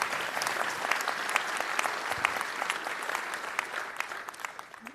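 Steady applause from a crowd at the grand opening of the Brooklyn Nets training facility, dense continuous clapping that carries on evenly without talk.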